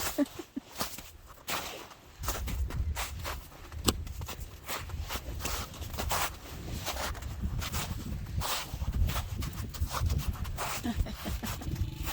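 Footsteps walking down stairs toward a parked motorbike during a Leepa Valley trip, irregular scuffing steps with rustling and scraping close by, continuing steadily throughout.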